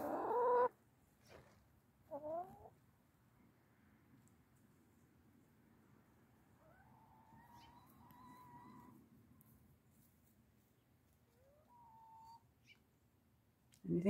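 Chickens make quiet, scattered clucks and drawn-out calls, with a couple of louder squawks at the start and end.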